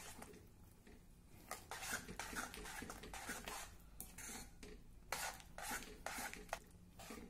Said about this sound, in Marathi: आता हे व्यवस्थित मिक्स करू